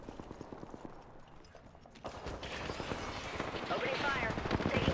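Rapid automatic gunfire in the Apex Legends battle royale shooter, quieter bursts at first then swelling into louder, denser firing with explosive rumble, as a voice speaks over the action.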